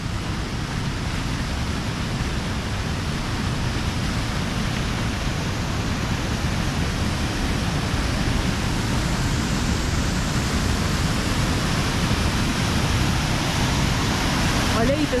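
A waterfall swollen by heavy rain roars with a strong flow, a steady, dense rushing that holds unbroken throughout while people talk over it.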